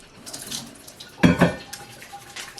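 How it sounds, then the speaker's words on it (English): Hands washed under a running kitchen tap in between handling floured venison, a soft stream of water with a louder splashing burst midway, close by and without talk. "looks like get my hands washed in between here"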